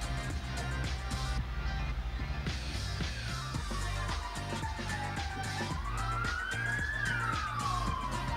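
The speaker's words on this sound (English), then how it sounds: "Ambulance." An ambulance siren wails, rising and falling over steady traffic rumble, fairly distant and continuous, with no voices.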